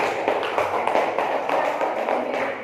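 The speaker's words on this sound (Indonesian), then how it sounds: "Kasih tepuk tangan buat kelompok 3." A class of students applauds a student group after their presentation, with a dense, steady patter of many hands clapping at close range throughout.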